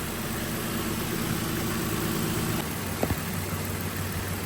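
A used car's engine idles during a pre-purchase inspection, a steady low hum and faint vibration with a soft mechanical tick near the end, heard fairly quietly at close range.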